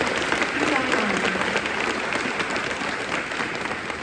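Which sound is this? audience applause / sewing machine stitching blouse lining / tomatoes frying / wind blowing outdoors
audience applause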